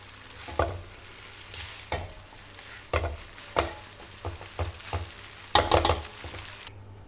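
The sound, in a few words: vegetable noodles being mixed with green onion in pan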